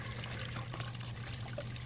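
Fountain water showers a turtle: a soft, continuous splashing trickle and patter of water, faint and steady throughout the short stretch, with no talking.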